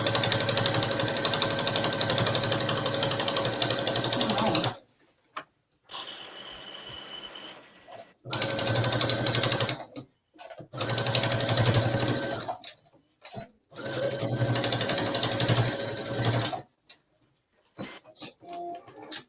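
A sewing machine attaches a waistband to a black wool skirt in four long, loud bursts of stitching, close up. Short gaps between them hold fabric handling and a brief higher whir.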